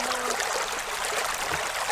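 Creek water flows and trickles steadily and close by, a continuous broadband rush with no pauses and a faint low voice briefly in the background.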